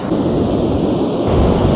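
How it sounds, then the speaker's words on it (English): Strong wind roars across the microphone on a beach at Happisburgh, Norfolk, with heavy low rumbling gusts, mixed with the steady wash of surf, loud and continuous throughout. "Windy as hell."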